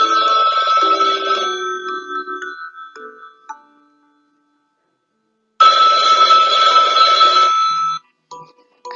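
A telephone rings in two loud, close bursts of electronic ringing, the first lasting about three seconds, then a pause, then a second burst of roughly two seconds before it cuts off.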